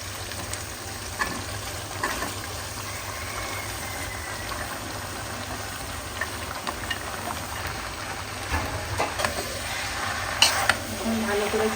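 Meat and raw jackfruit go into a pot of fried spice paste and get stirred, a continuous soft sizzle with scraping and clinks of a spoon against the pot, growing busier toward the end.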